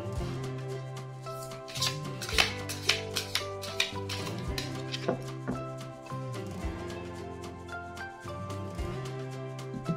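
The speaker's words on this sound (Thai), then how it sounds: "ขออนุญาตสับไพ่และเลือกไพ่แทนคนเกิดวันศุกร์นะครับ" Tarot cards being shuffled by hand, a run of quick papery flicks and riffles set under steady background music.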